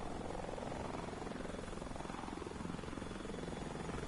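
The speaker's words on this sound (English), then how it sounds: "You see a helicopter?" Helicopter in a video game at Loot Lake, a continuous dense rotor drone and buzzing engine that stays steady and fairly loud throughout, with no talk.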